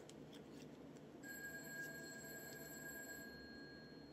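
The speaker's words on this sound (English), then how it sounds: "That's my house phone." A landline house phone rings at home with a thin electronic trill that starts partway through, faint and somewhat distant, over quiet room tone without talk.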